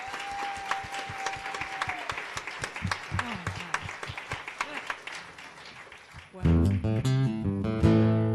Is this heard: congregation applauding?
yes